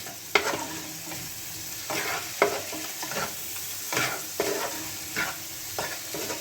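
Grated ginger, tomato and spices are stirred in a hot pan for paneer butter masala. A constant sizzle runs under repeated scraping stir strokes at an uneven rhythm, and there is no talk.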